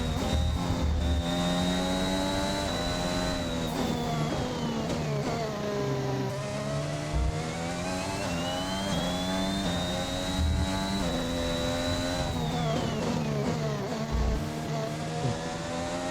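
A Formula 1 car engine in the F1 21 racing game, at the Portugal circuit, howls loudly and continuously, its pitch falling and climbing again through gear changes and corners.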